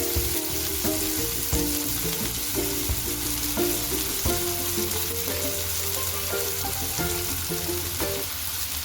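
Chopped onion and dill greens (shepu) sauté in a pan with a steady loud sizzle and frying crackle throughout, mixed with repeated scraping as a spatula stirs.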